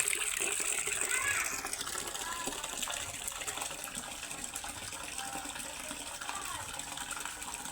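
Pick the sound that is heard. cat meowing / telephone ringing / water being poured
water being poured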